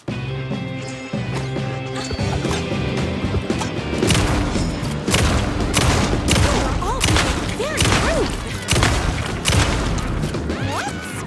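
Rapid bursts of gunfire from the survival horror video game Alan Wake 2, Night Springs DLC, loud, repeated shots and crashing impacts packed together in a sustained fusillade with booming hits.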